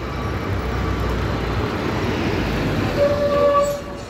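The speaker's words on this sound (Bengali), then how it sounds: "মেট্রো রেল ছুটে চলেছে মতিঝিল থেকে মিরপুরের উদ্দেশ্যে।" Metro rail train running from Motijheel toward Mirpur in Dhaka, a steady loud rumble of wheels and carriages throughout, with a brief horn-like tone near the end, no voices.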